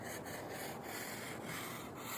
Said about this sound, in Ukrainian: Ми шліфуємо так кожен ряд.